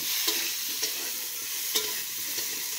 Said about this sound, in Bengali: বিনসগুলো তাড়াতাড়ি হয়ে যায়, আর আলু আর গাজরটা হতে একটু টাইম লাগে। আমি এই সবগুলো ভালো মতন ভেজে নেব।